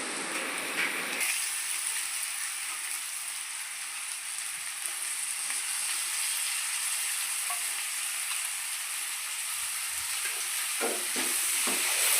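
Ivy gourd and dried prawns frying in hot oil, a dense, continuous loud sizzle that flares up when the pieces hit the pan and keeps crackling steadily, with a few faint clinks near the end and no talking.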